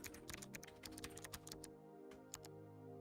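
Computer keyboard typing in quick bursts of close, clicky keystrokes, pausing briefly near the middle before a few more taps, with no talk over it.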